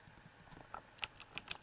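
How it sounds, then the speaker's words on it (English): Close, quiet typing on a computer keyboard: a dozen or so crisp keystrokes in a quick, uneven rhythm, with no voices. "So I'm going to type in"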